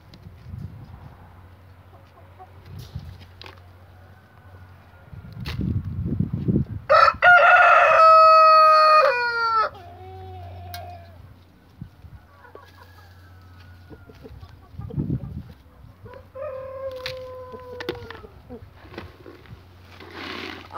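Rooster crowing loudly and close by in a backyard chicken coop, one long full crow standing out over quieter clucks and a second fainter crow later, with low farmyard hum underneath.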